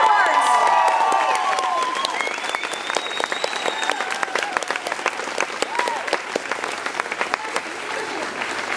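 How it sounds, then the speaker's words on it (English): A concert crowd at a show in Luxembourg bursts into applause with cheers and whoops, loud at first with high shouts, then settling into sustained clapping that gradually thins out. "Give him a huge round of applause."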